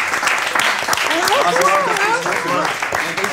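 Brief applause from a quiz-show audience at the end of a round, moderately loud claps with a voice and some sung or exclaimed tones rising over them.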